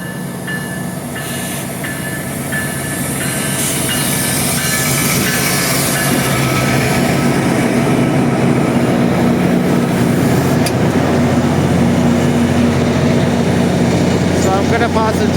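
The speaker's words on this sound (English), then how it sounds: "the train leaves at Oriole Go Station." A GO commuter train rumbles at Oriole GO Station, a loud, continuous rolling roar building slightly over time, with faint brake squeals and clicks layered on top.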